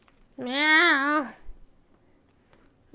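A cat gives a single clear, drawn-out meow, close and loud, with near silence before and after it.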